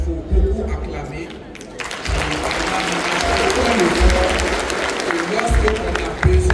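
An audience at an event in Burkina Faso breaks into loud, sustained applause and cheering after a brief quieter moment, with voices calling out over the clapping.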